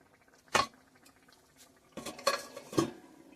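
A metal spoon clatters against a cooking pot while potatoes are stirred for a home-style Bengali jackfruit and prawn curry with coconut, then a lid is set down with a few sharp clinks and scrapes, close and clear with quiet gaps between.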